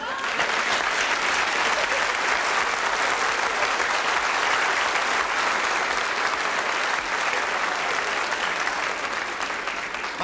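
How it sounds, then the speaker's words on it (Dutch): Studio audience applauding orchestra leader Koen van Orso junior on a comedy quiz show, a loud, sustained, dense roar of many hands clapping evenly for about ten seconds with no pause. "Die krijgt altijd applaus"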